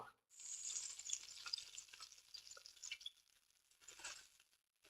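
Butter and oil sizzle in a pan for beef stroganoff, a steady, bright crackle close by that rises and dips with brief pauses, with no talking.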